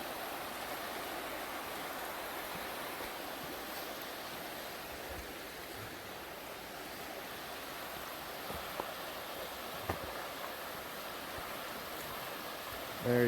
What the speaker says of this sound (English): Looking down on the river from up here.